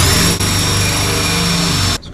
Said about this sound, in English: Make some ugliness here. I hate hole saws,